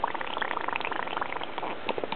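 An HHO generator cell bubbling steadily, a dense fizzing gurgle held close and alone for a couple of seconds.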